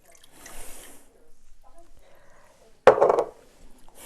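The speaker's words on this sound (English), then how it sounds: "So I'm going to pour in the compound." Ginger wine compound pours from a bottle into a container for a non-alcoholic ginger wine, with soft trickling and dripping, then a sudden louder splashing gush near the end.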